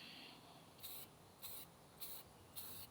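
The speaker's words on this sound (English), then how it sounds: "Just give them a light spray, kind of like that." Four short, light bursts from a spray can hiss over model train decals, evenly spaced about half a second apart and heard close and alone in a quiet room.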